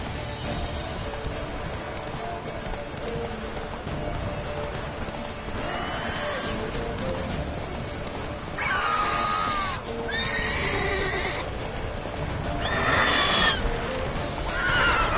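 A horse in The Witcher 3 gallops with a steady clip-clop of hooves and lets out several loud neighs and whinnies in the second half. A faint voice is heard underneath.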